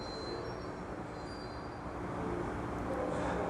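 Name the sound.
Amtrak passenger train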